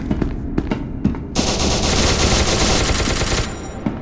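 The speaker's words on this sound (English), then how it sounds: "Why is the scientist shooting him?" Gunfire in SCP: Secret Laboratory as a scientist shoots: a few scattered single shots, then a loud, dense automatic burst roaring nonstop for several seconds.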